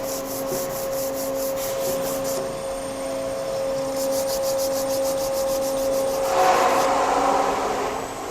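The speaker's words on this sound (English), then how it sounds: "simply take some 120 grit emery cloth and we'll just wrap it around there and give her the old what for" A metal part from a machine teardown is sanded by hand with 120 grit emery cloth wrapped around it, giving steady close rubbing and scraping strokes in a regular back-and-forth rhythm, loud and continuous over a faint background hum.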